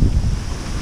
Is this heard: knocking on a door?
no